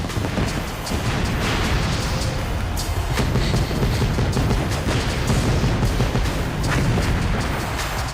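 Dense, continuous booming of slow-motion explosions from the WWE '12 video game, a loud rumbling roar with overlapping blasts and crackle that never lets up.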